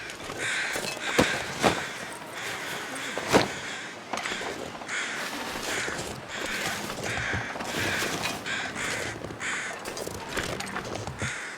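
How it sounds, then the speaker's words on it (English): Crows cawing in the survival video game The Long Dark, harsh repeated caws from several birds circling overhead, scattered irregularly over a steady wind-like background. "crows circling from above"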